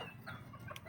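Pet chickens cluck softly while being fed, with faint overlapping clucks under low background noise.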